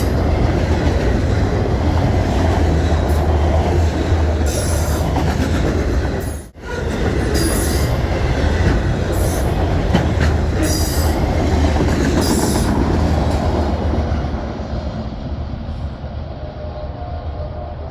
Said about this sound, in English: The train is bound for Ayer, Massachusetts with its loads of racks, empty trash, and manifest blocks